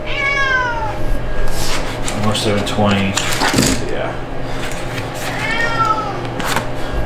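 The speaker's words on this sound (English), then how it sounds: "Got my cat." A pet cat meows twice, clear and close, with one near the start and another near the end, amid clinking dishes and cutlery, while a person speaks briefly in between.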